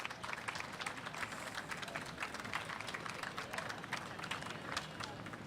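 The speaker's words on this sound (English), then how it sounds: "Can we give Paul another round of applause?" A crowd at a mayor's press conference applauds steadily for Paul, with dense, even clapping throughout and voices faintly mixed in.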